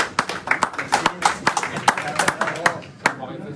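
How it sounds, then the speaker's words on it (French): Brisk, close applause from a small audience after a billiards demonstration at a French club, scattered individual claps ringing out rapidly for a few seconds, with a voice speaking over the clapping. "Alors, vous pouvez applaudir."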